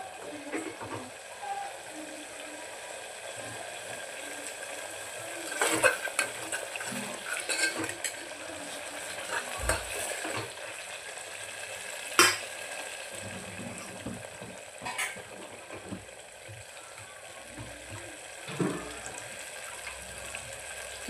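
Spices frying in a pressure cooker pan for a spicy mutton curry, with a steady close sizzle broken by scraping stirs and clinks of the spoon; no one talks.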